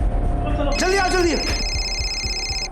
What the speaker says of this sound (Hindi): ये फोन के आवाज आ रही कहीं से।